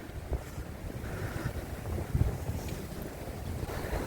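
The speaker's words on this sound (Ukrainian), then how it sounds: "посилюється і вітер, і оце все, і хуртовина, щось воно мете, мете" Strong wind gusts roar and buffet the microphone in a snowstorm on the Odesa coast, a rough continuous rush with louder surges.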